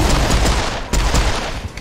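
Enemies in the shooter game Serious Sam: Siberian Mayhem fire at the player in a dense, continuous burst of gunfire, loud and close, with heavy low booms and rapid rattling shots running throughout.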